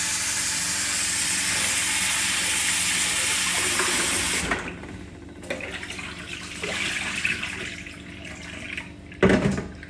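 Running tap water pours steadily for a few seconds, then stops, followed by softer swishing and clinks of rice grains being rinsed in a bowl.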